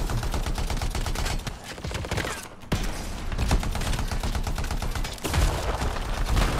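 Rapid sustained automatic gunfire in the Anthem video game, dense rattling bursts with a brief pause midway before firing resumes, loud and close without any talking.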